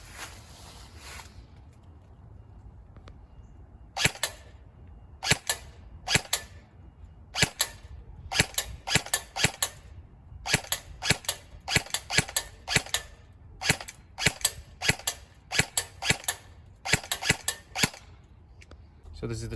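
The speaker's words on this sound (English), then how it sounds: "So just going to shoot at it from here." Sharp airsoft shots from a VFC Mk18 rifle fired at a small close-range target, about two dozen crisp cracks in irregular semi-auto bursts, close and loud, with faint mechanical clicks between them and no talk.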